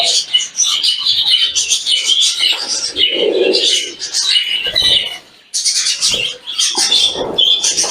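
Young show budgerigar chicks chirp and chatter in a dense, continuous stream of high twittering calls close by, with brief pauses and a soft low murmur mid-clip.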